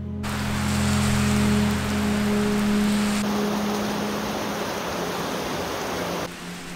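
Heavy rain pours down in a dense, steady hiss, with a low hum beneath it for the first few seconds.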